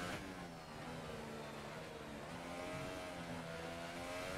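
A racing car engine in a French Grand Prix sim race accelerates hard, its harmonic whine climbing through the gears at a steady, moderate level, alone without voices.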